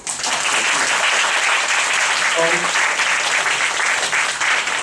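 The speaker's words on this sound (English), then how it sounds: "I would like the audience to join me giving a warm applause." Warm audience applause at an economics forum, a dense steady wash of clapping from a full hall that holds loud throughout, with a brief spoken word breaking through midway.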